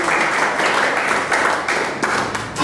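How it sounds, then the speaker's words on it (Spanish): Loud, sustained applause from a crowd, a dense continuous wash of clapping throughout. "Denle un fuerte aplauso al Señor."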